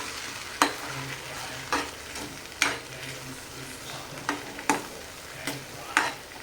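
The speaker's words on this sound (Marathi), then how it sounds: "हे जे आपण कॉर्नफ्लावरचं तयार केलेलं मिश्रण ते टाकते ते पण छान मिक्स करून घेतो" A spoon stirs cornflour slurry into sizzling chicken chili in a pan, striking the metal in regular, distinct clanks about once a second over a steady frying hiss.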